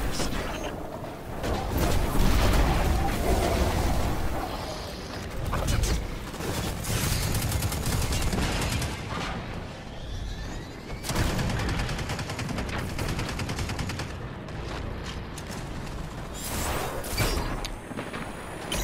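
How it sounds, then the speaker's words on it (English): Orbital bombardment in Destiny 2: The Witch Queen on Mars, heavy rumbling blasts and rapid gunfire-like bursts that rise and fall in waves, loud and sustained, with game voices mixed in. "Orbital bombardment incoming."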